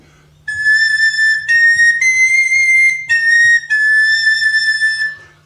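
A sopranino recorder plays a sustained, piercingly high note in several held phrases with brief breaks, bright and clear, with no talking.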